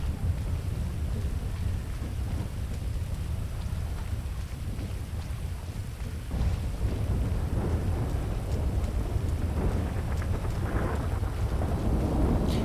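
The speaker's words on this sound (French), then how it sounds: "Ah, c'est la fameuse tempête." A storm in a video game: steady heavy rain with rolling thunder rumbling low throughout, a dense continuous wash of sound with no voices.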